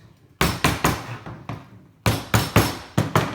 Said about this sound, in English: Hammer those down